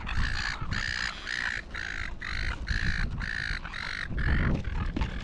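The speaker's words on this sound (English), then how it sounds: "Look at all these bloody birds." Loud, repeated harsh squawking calls from several gulls close by while being fed on the Woy Woy foreshore, coming in rapid bursts with a rough noisy background.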